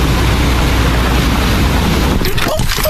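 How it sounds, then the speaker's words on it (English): Water gushes from a broken water main in a loud, steady broadband roar, with a brief burst of scattered noise near the end. "This water main breaks."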